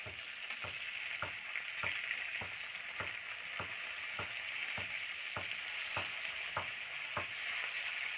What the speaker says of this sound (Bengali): তো উল্টে পাল্টে ভালো করে আর কি ভাজা ভাজা করে নেবে।